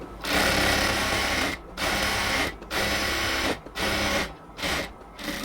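A sewing machine runs in steady bursts while stitching the side seam of a luxury cotton dress, loud and close, with several short pauses between runs of continuous mechanical whirring.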